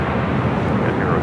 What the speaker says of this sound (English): It's the Qantas A380, flight 11 coming in from Sydney.